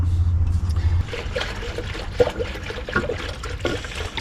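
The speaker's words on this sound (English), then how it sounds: "Adding the coolant back in." Coolant poured into a car engine, a gurgling liquid trickle and splash close by, preceded by a brief low hum, with no talking.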